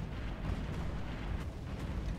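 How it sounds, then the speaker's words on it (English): Dense, rumbling explosions from the Stellaris space strategy game pile up in a continuous, booming wash, steady and fairly loud throughout with no voices. "Explosions in my ears."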